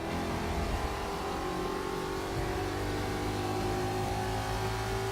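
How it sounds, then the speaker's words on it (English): A Ford Mustang GT's engine drones steadily in Forza Motorsport 6, a close, continuous racing-game car sound with sustained engine tones that shift slightly in pitch as it runs. "I don't particularly like the Ford Mustang GT."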